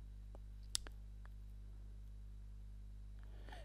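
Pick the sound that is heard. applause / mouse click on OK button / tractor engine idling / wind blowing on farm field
mouse click on OK button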